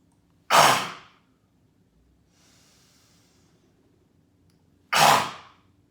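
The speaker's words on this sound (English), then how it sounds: "Stick your tongue out with a loud ha." Yoga breathing exercise with tongue out: two loud, forceful breathy "ha" exhales a few seconds apart, close and alone, with quiet between them.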